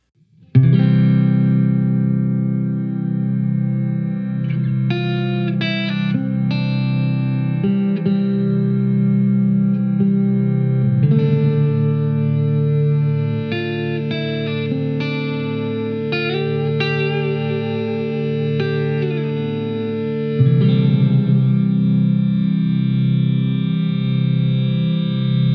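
Electro-Harmonix Superego+ guitar synth pedal holds frozen, sustained layered notes that slide smoothly from one chord to the next, a continuous droning wash with gliding pitch transitions and no speech.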